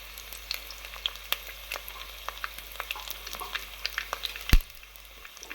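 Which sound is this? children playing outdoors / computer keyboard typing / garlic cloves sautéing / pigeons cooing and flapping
garlic cloves sautéing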